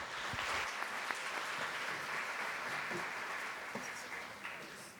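A crowd applauds steadily, a dense wash of clapping that holds for the whole stretch and eases slightly at the end.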